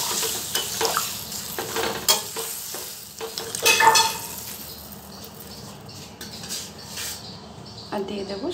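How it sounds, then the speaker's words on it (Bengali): Fish with drumsticks, mango and potato frying in a pan, with soft sizzle under intermittent metal spatula scrapes and clinks against the pan; no talking. "এটাকে আমি আরেকবার নেড়ে নেব। ভালো করে ভাজা হয়ে গেছে।"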